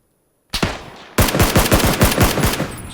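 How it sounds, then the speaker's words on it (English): Gunfire in the video game PUBG, heard as one loud burst and then a rapid automatic volley of sharp, close shots that keeps going to the end. "Somebody behind me shooting me."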